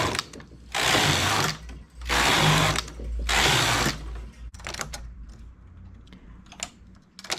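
A knitting machine carriage runs across five rows, giving three loud, sustained whirring-clatter sweeps of about a second each, then lighter ticks and clicks as the work settles.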